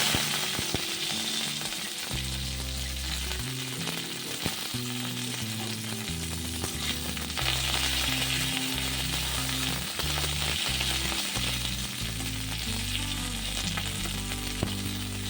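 Whole cumin seeds tempering in a little hot mustard oil in a pan give a continuous loud, dense sizzle with crackling throughout, close up, while background music plays underneath and no one speaks.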